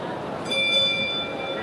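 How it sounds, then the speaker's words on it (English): A boxing ring bell sounds during a ten-round flyweight bout, a bright metallic ring with sustained overtones that fades slowly under arena crowd noise. "Bell has sounded, and we enter the midway point of this fight scheduled for 10."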